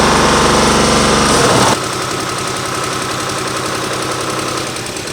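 OPICO skid steer diesel engine revving hard and loud, rolling coal, then dropping abruptly to a steady rough idle that knocks and vibrates before fading slightly.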